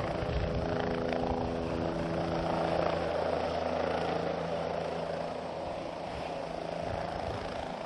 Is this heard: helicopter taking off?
yes